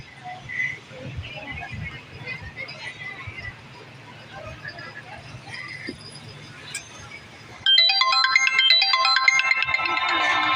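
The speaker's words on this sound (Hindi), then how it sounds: "बीच में फ़ोन आ गया था" A mobile phone ringtone chimes on board an Awam Express passenger train between Lahore and Dina, bright repeating electronic notes cutting in over the steady rumble and chatter of the carriage.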